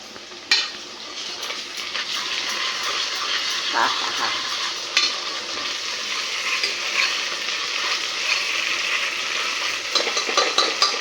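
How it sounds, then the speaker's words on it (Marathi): Ginger garlic paste frying on onions in butter for pav bhaji, a dense continuous hissing sizzle with faint stirring clicks throughout, no clear talk. "बटरचा झालेल्या कांद्यावर मी आलं लसूण पेस्ट टाकली आहे एक चमचा भर"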